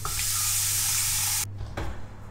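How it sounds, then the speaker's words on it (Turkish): Tap water runs into a Borcam glass baking dish as a loud, steady hiss that cuts off abruptly partway through, followed by a faint knock. "Borcamın içerisine su dolduruyorum."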